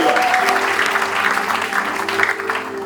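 A church congregation applauding together during a French-language worship service, a steady, dense wash of clapping that stays loud and even for the whole stretch, with a low musical hum beneath and no clear talking.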